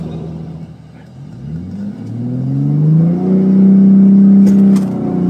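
A Ford F-150 Raptor EcoBoost truck fitted with a Whipple Stage 1 supercharger kit accelerates hard, its engine note climbing through the gears into a loud sustained roar, heard from inside the cab without talk.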